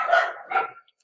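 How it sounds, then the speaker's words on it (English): A dog barks twice in quick succession, close and fairly loud, followed by a brief pause and a faint start of another sound. "You have some dogs in the background."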